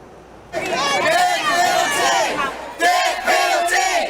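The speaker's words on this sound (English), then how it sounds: "joined a crowd outside the Wyandotte County Courthouse calling for justice" Crowd outside the Wyandotte County Courthouse in Kansas chanting for justice, loud massed voices shouting in rising and falling waves, a brief dip near the middle before the chant surges again.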